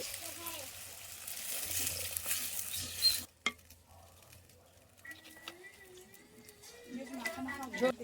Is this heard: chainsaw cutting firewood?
no